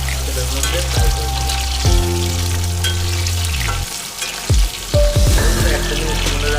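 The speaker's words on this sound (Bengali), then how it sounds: "টমেটোটাকে আমরা ভালো করে তেলের মধ্যে ফ্রাই করব।" Tomatoes frying in hot oil for karai chicken, a steady close sizzle with stirring scrapes and clinks of a utensil against the pan, no voices.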